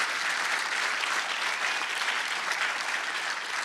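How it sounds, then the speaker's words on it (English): A crowd claps steadily for Eben Upton at an award ceremony, a dense continuous wash of many hands at even loudness throughout the few seconds. "Please give another round of applause to Eben Upton"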